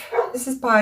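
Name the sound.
neighbour's dog barking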